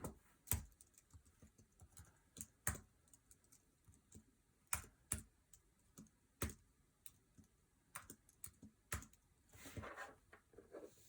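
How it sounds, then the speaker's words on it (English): Calculator keys pressed one at a time in an irregular sequence of sharp, close clicks, entering a square-root calculation with no talking. "So then I'm going to go to my calculator and I'll type that in."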